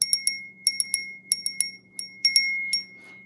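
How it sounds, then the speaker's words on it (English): Small bell rung in quick bursts of two or three bright metallic dings, several groups close together over a faint low hum, with no talking. "I'm coming back because I got a bell."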